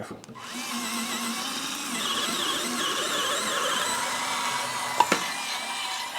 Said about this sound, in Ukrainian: Чи просверлить нова акумуляторна викрутка деревину сверлами 5, 6 та 8 мм?